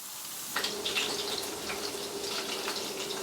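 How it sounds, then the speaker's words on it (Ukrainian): Soft hissing and crackling start abruptly, as chopped meat patties spooned into hot oil keep sizzling quietly in a pan. "і обсмажую до золотистості з обох сторін."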